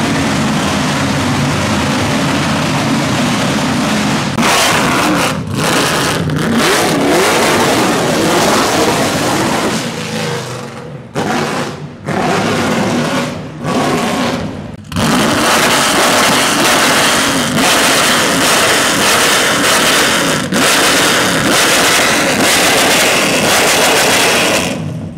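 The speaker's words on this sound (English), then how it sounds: "Loudest car I've ever heard." A TVR sports car engine roars loudly and continuously on a road trip toward Monaco, with a few brief dips in level midway before the loud, sustained revving returns.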